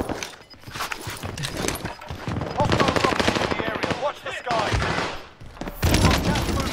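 Video game gunfire on Rebirth Island: dense bursts of rapid automatic fire, close and loud, rattling on almost without a break.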